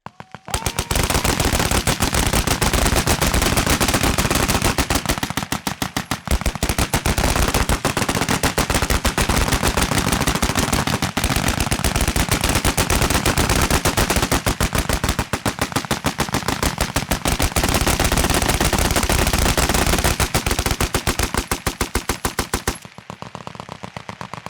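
A Vickers machine gun fires long, sustained rapid bursts at a centenary shoot, a dense, very loud hammering chatter with brief gaps between bursts and a sudden stop near the end.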